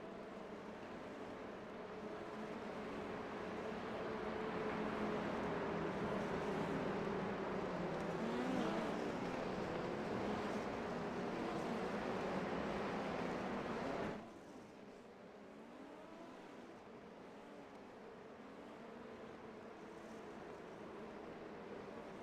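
Super Formula open-wheel race cars in iRacing on the Belgian Grand Prix circuit weave behind the safety car to warm their tires, a dense blended engine drone that swells, then drops abruptly to a quieter steady hum, with no commentary.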